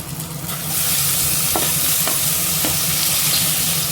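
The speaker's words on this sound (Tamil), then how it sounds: "இப்போ நம்ம கட் பண்ணி வச்சுருக்கேன் தக்காளியை சேர்த்துக்கலாம்." Chopped tomatoes frying in a pan with onion, ginger and garlic give a steady, loud, close sizzle, broken by a few faint stirring clicks, with no one talking.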